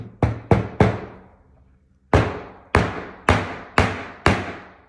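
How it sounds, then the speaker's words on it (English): Sharp hammer strikes on nails while framing artwork in an IKEA frame: three quick blows, a short pause, then five more evenly spaced, loud and close with no talking. "Couldn't find my little hammer today."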